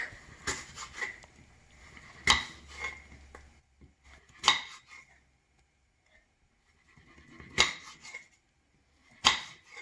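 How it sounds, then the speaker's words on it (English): Apples are sliced very thin with a knife on a board: a handful of crisp, close cuts arrive in scattered clusters, separated by quiet pauses, and no one speaks. "So let me start it with cutting the apples"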